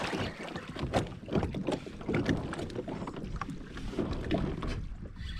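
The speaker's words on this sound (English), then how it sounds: "and then we'll do some paddling" A kayak paddled on a creek, with irregular close splashes and dips of the paddle in water over light wind noise, no talk.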